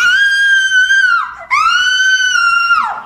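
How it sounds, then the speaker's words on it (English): A blood-curdling scream performed at an audition: two long, piercing, high-pitched shrieks, loud and close, separated by a short break, with no other sounds around them. "one of your skills is a blood-curdling scream. Uh-huh. Can you give us a sample of that?"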